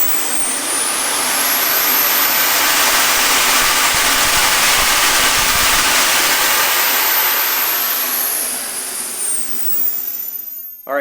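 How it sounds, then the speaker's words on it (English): A Swiwin SW80 model jet turbine runs at full throttle, a loud, close, roaring whine that holds steady for several seconds, then winds down toward the end. "we'll do a full throttle run-up test"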